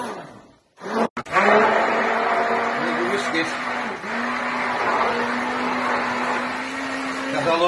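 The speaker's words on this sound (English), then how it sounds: "Use a blender. These are fantastic. This is just a cheap one." A cheap electric hand blender mixing Yorkshire pudding batter, starting with a couple of brief bursts and then running as a steady, loud motor whine with a slight churning texture.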